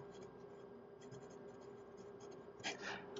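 Nib of a TWSBI Mikarta fountain pen, written reverse side up, scratching faintly across paper in short continuous strokes, very quiet and close, with a slightly louder scrape near the end.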